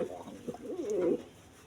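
Pigeons from a young breeding pair, a female and a male, give a short run of low, warbling coos up close, one throaty call rising and falling before it fades.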